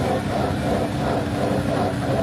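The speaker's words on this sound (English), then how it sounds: "that's the sound of that big disc wheel on the back as he turns into the climb" A big rear disc wheel on a time trial bike turns into a climb during an Olympic men's individual time trial at Fuji International Speedway. It gives a steady, close, low whooshing hum that stays even throughout.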